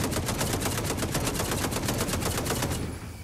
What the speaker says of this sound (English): Yeah, they're shooting down there.